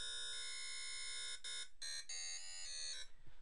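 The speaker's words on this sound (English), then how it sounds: "it should give you that type of sound, a screamer" A harsh, bright dubstep screamer synth tone made in FL Studio, with stacked buzzing harmonics, holds steady, then stutters into short chopped bursts near the end, loud and alone.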